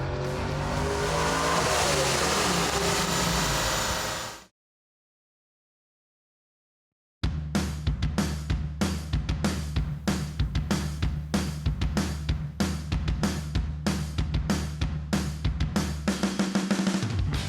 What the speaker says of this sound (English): we're ready to lay down some numbers on the dyno